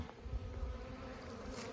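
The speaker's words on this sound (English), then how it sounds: "got a pretty good cluster of bees in here" Honey bees buzz steadily inside a Langstroth hive, a dense close-up hum that holds without a break through a brief moment.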